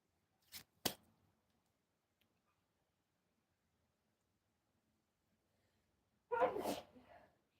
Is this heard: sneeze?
yes